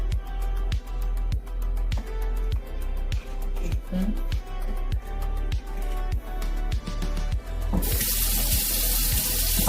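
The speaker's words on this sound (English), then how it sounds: "Some shell on the knife, so I'll rinse it a little bit." Tap water runs steadily into a sink while an oyster knife is rinsed clean of shell bits, a continuous close splashing with a regular pulsing rhythm that grows into a louder rush near the end.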